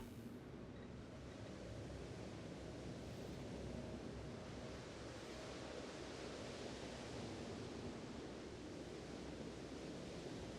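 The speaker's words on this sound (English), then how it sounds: "White noise. The sound of the ocean." Steady, dense white-noise ocean ambience plays in a video game, a continuous broadband wash like surf or rushing water that stays loud and even throughout with no voices.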